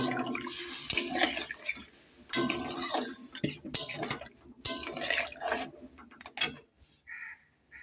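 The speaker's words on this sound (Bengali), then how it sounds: "এখন আমি এর ভেতরে দিয়ে দিচ্ছি জল ব্যাস আর দেবো না এইটুকু জলই দেব" Water poured into a pan of fried potatoes for a paneer and peas dish, a rushing splash and sputter in a few bursts, then fading drips and clatter of the pan.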